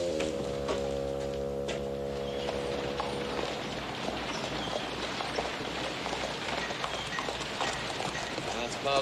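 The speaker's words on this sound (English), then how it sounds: "That's Pa's horse, all right." A horse's hooves clip-clopping in a steady rhythm on a western ranch setting, mid-distance, running under other background noise, with no voices heard.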